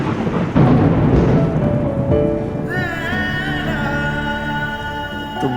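A rainstorm pours down steadily while thunder rumbles loudly early on, before sustained music-like tones rise over the continuing rain.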